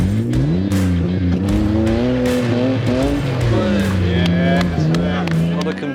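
A car pulls away at the start of a timed hill run, its engine note rising and falling through strong, loud harmonic bands with a brief tyre squeal, steady and close throughout.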